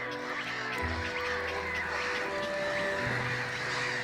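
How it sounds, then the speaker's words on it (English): A dense chorus of migratory waterfowl in a Polish swampland, ducks and geese quacking and honking over a steady, busy background of many birds at once. "During the night, more migratory birds have arrived."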